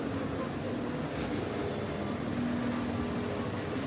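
A Walt Disney World monorail passes at a resort, producing a steady, even rolling rumble throughout.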